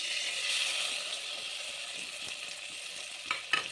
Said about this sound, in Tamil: இப்போ கடுகு பொரிட்டோம், வெந்தயமும் சேவக்கட்டும்.